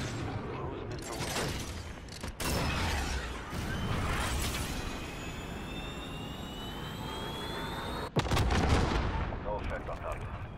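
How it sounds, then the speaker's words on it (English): Cruise missile strike in a video game: a loud, sharp blast hits late amid sustained gunfire and a rising jet whine overhead, with voices faintly talking underneath. "Falcon control. Cruise missile."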